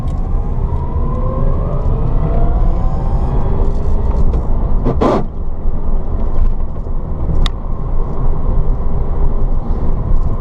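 Steady loud wind rush and road rumble fill the cabin of a 1967 VW Beetle converted to electric drive, with one window down, plus a brief whoosh midway and no talking.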